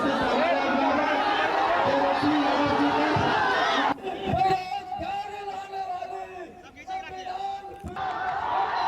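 A dense crowd surges toward Tejashwi Yadav's helicopter at an election rally in Bihar, making a noisy hubbub with scattered thumps, while a voice keeps talking over the commotion.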